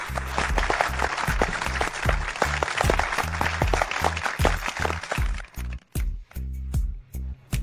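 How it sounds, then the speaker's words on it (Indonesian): An audience claps for this year's gold medal winner, loud dense clapping over a low rhythmic musical pulse, breaking into scattered separate claps and brief gaps near the end. "Mari kita beri tepuk tangan meriah untuk pemenang medali emas tahun ini"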